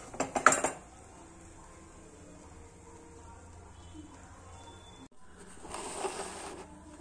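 Sweet makhana balls being set out onto a metal plate: a cluster of clattering metallic clinks at the start, a quiet stretch, then a softer second burst of scraping and clinking.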